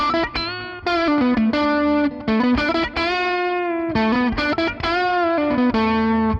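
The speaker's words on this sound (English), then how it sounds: "the clean I am enjoying a lot" Electric guitar played clean through an Amplitube 5 Mesa Boogie amp simulation, with ringing chords and single notes in a steady, loud, continuous phrase and brief gaps between strums, alone with no voices.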